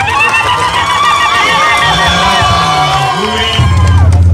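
A crowd at a national Uhuru Torch race leader's visit to Mkuti B primary school cheers and claps loudly and steadily, with whoops and shouting voices blending into a dense roar that swells further near the end.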